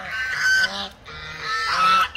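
A flock of geese honks loudly and nearby, with two long bursts of overlapping nasal calls separated by a brief lull, no talk.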